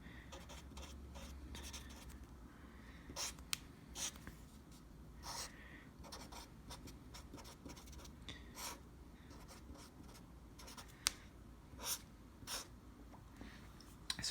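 Pen writing on paper while working a logic puzzle, with quiet close scratching strokes in short bursts and small pauses, faint and steady, with no speech.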